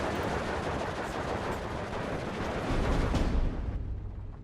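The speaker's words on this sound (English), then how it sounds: "this artillery is kind of annoying" Artillery barrage in the WWII real-time strategy game Steel Division 2, a dense rumbling wash of shell blasts and gunfire rolling continuously, with a heavier low boom swelling near the end, no talking.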